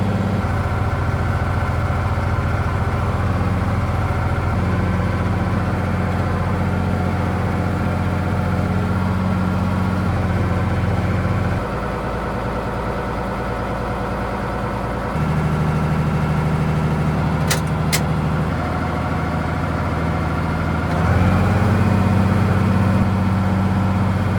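A John Deere 35G compact excavator runs steadily while moving fill, its diesel engine droning low and loud close by, the pitch stepping up and down as the load changes, with a brief pair of sharp clicks partway through.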